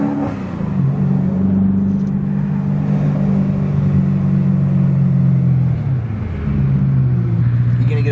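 Twin turbo Gintani BMW E92 M3 V8 with an 8,500 RPM redline, rumbling loud and close in a steady held rev that rises and falls slightly before dipping and settling again, with faint voices underneath.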